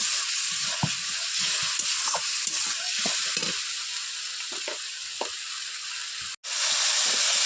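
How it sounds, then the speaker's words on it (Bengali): Spice paste with turmeric powder and salt sautéing in a pan for a pabda fish mustard-poppy seed dish, giving a loud, continuous close sizzle with scattered stirring scrapes and a brief dropout near the end. "দিয়ে দেব হলুদ গুঁড়ো সামান্য পরিমাণ, দিয়ে দেব লবণ, দিয়ে মশলাটাকে ভালো করে কষিয়ে নেব"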